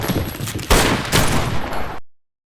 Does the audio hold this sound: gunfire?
yes